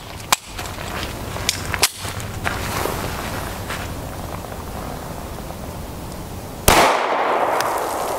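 Sharp 9x19mm hollow point shots from a 3.6 inch pistol barrel crack out at uneven intervals, a few loud reports in a row followed by a closer, heavier blast near the end.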